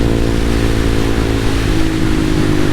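A motorcycle is ridden and accelerates. The engine hum is loud, close and steady, with a slight rise in pitch over a few seconds and no talking.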